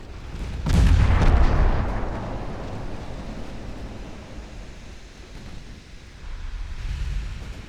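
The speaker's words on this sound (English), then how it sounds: "Not a great torpedo hit, but it's a torpedo hit" A torpedo striking a ship in a naval warfare game set in an 1897 Ottoman campaign: a sharp, heavy explosion with a deep booming rumble that fades into a lingering roar, then a smaller swell of rumble near the end.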